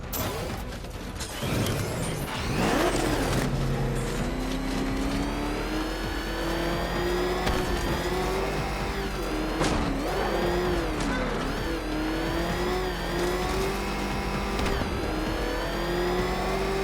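The Batmobile engine in Batman Arkham Knight during a Riddler race, a loud steady drone that rises and dips with revving, mixed with mechanical whirring and clanks as the car drives.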